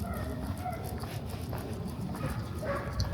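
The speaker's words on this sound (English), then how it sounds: "Oh, you can really hear that dog going." A dog barking somewhere along an East End street on a night walk past Christmas lights, repeated barks under steady outdoor street noise, moderately distant.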